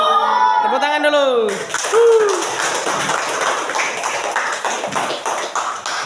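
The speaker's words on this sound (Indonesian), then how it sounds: "Tepuk tangan dulu." A classroom group claps hands together, a dense burst of fairly close applause that carries on steadily for several seconds after a voice speaks at the start.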